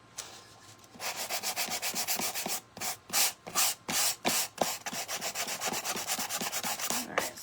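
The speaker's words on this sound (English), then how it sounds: "so let's get this sanded down" Wood on a thrift store piece being sanded by hand, with rhythmic rasping back-and-forth strokes that start after a quiet second and run on in bursts, close and loud with no voice.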